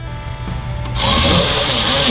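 A power tool drives in the wiper motor bolts on a 2003 Saturn Ion, a loud close whirring burst starting abruptly after a quiet moment and running steadily to the end.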